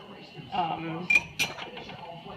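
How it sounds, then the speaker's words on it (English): A spoon scrapes and knocks against a metal pot as hot alcapurria filling is moved into a bowl, producing a few sharp, close clinks under a speaking voice. "So I'm going to put it in a bowl"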